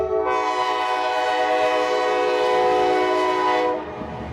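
Yard switcher locomotive 1201 sounds one long, loud, steady horn blast lasting several seconds before cutting off, against faint rail rumble.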